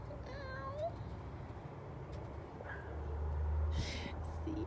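A person imitates a cat's meow a couple of times with rising, whiny calls, close by, over quiet outdoor background noise.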